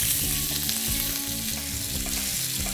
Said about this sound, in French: On va rajouter maintenant les poivrons émincés de toutes les couleurs.